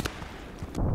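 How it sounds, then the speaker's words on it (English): Grenade explosion in the online shooter Contract Wars: a sharp crack at the start, a muffled rumbling tail, and a heavy low boom building at the end, with no talking. "Hit by a grenade."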